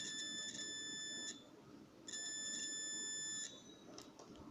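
A multimeter giving two long, steady high-pitched test beeps, each lasting over a second with a short pause between, faint in a quiet room.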